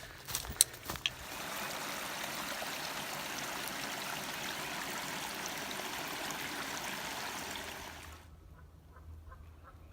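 Small drainage creeks meet at a confluence near Brookville Lake, giving a steady soft burble and trickle of running water that stops abruptly near the end, preceded by a few brief sharp knocks at the start.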